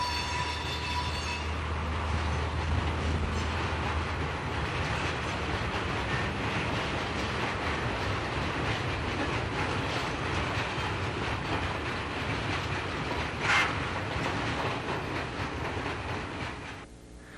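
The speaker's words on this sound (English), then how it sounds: "This 6400 class diesel has 9 compost wagons in tow." A 6400 class diesel locomotive hauls nine compost wagons past on Dutch track near Amsterdam, a steady rumbling roll of wheels with rhythmic clicking and a brief squeal midway, fading slightly at the end.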